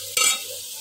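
Potato and eggplant curry frying in a pan, with a short burst of stirring and sizzle near the start that settles into a steady low hiss.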